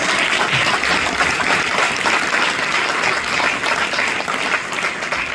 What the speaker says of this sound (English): Wow, let's give him a round of applause